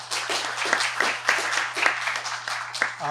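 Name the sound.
audience applause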